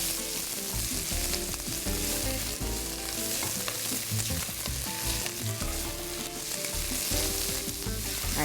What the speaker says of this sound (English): after your garlic is sauteed